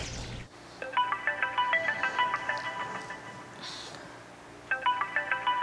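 Mobile phone ringtone for an incoming call, a bright repeating electronic melody in short bursts, moderately loud with a pause before it resumes, over faint room noise.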